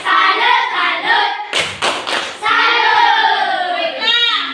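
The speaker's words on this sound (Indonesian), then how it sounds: "Tepuk salut untuk kelompok 1." A class chants a cheer in unison for a student group, long voiced shouts broken by a quick cluster of loud, close hand claps in the middle.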